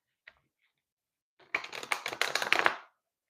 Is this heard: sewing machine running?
no